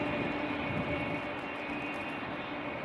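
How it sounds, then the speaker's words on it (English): Surinam Airways Airbus A340-300, a four-engine airliner, taking off nearby: a steady, broad engine roar that holds at a constant level throughout, with no voices. "now it takes off right in front of us"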